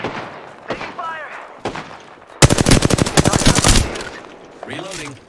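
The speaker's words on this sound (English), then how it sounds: "Taking fire." Video game gunfire with a rapid automatic burst of closely spaced shots in the middle, loud and sharp, while voices talk before and after.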